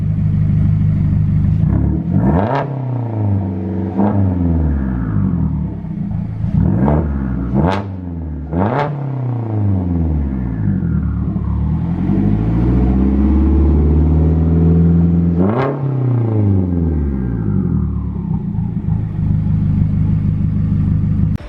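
A 2016 Mazda MX-5 Miata (ND) with a custom turbo and 3-inch exhaust revs loudly and continuously nearby, its engine note repeatedly rising and falling through several sharp throttle blips, with no talking.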